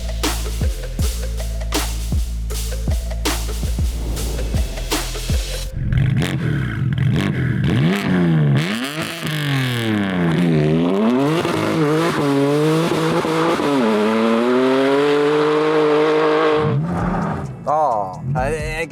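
A BMW M4 fitted with giga turbos accelerates with its exhaust valve open, at first idling with sharp pops, then a loud roaring surge of rising and falling revs through several gear changes, with people talking over it.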